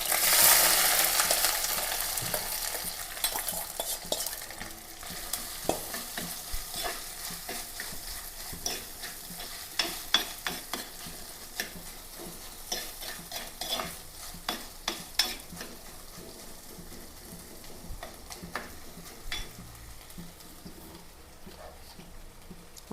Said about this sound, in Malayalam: എണ്ണ കാഞ്ഞിട്ടുണ്ട്. ഇതിലേക്ക് ഇഞ്ചി, പച്ചമുളക്, വെളുത്തുള്ളി ചതച്ചതാണ് ഇട്ട് കൊടുക്കാം.